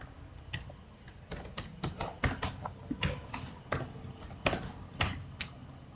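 Names being typed into an Excel sheet on a computer keyboard, giving irregular clusters of crisp key clicks at moderate volume, close up and with no one speaking.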